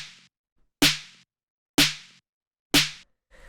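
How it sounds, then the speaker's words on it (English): Three punchy drum-machine snare hits for a raw electro track, each a sharp crack with a short decaying tail, evenly spaced about a second apart and played alone, loud and close. "just like a punchy drum machine style snare"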